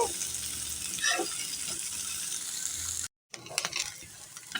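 Chopped onion and grated fresh coconut fry in a pan with a steady close sizzle. A brief silent break cuts in partway through, then the crackling resumes.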